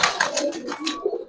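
Pigeons coo close by in a short burst of soft, throaty, repeated notes.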